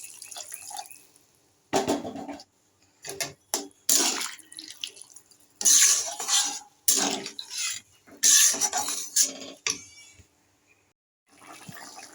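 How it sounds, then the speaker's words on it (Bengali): Water poured into a cooking pot of spiced masala for a paneer and vegetable dish, splashing in several loud bursts separated by short pauses, close and without talk. "আমি এবার জল ঢেলে দেবো"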